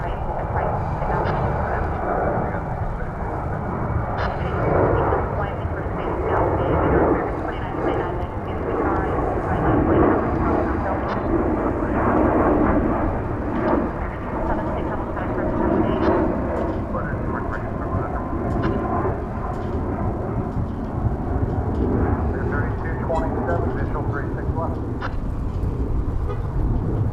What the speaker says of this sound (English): So that indeed was flight 777 to Las Vegas in Airbus A321